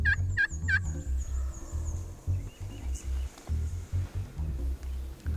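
Three quick, rattling gobbles from a flock of wild turkeys ring out at the start, followed by low thumping rumbles and faint rustling outdoors.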